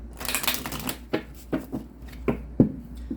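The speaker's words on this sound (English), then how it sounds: "One more shuffle" Tarot cards are shuffled in a quick riffle, then a series of sharp taps and slaps as the deck is squared, close and crisp.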